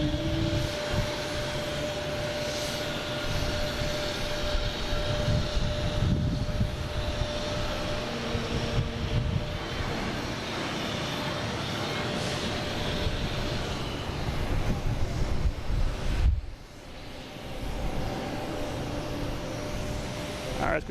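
A United Boeing 737 MAX 9 jet waits in a takeoff line at Boston Logan, its engines giving a steady broadband rumble and hiss at moderate distance.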